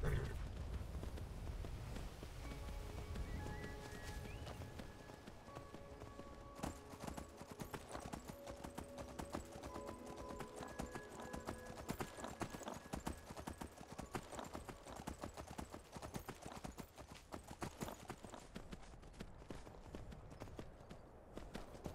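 A horse gallops in Skyrim, its hooves clopping in a fast, steady rhythm that runs throughout, with a musical tone layered underneath and a voice talking over parts of it.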